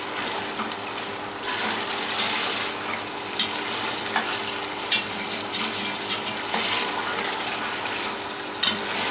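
Spiced masala for a goat head curry, about two kilos of meat, fries in a pot with a continuous dense sizzle while a spoon stirs and scrapes through it in occasional soft knocks.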